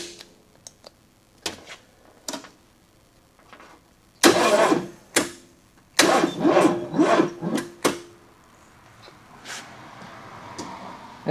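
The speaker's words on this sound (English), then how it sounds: "This starter is not happy." An old abandoned 4x4 Blazer's struggling starter cranks its once-seized engine in several separate bursts of uneven grinding, with short pauses and clicks between tries.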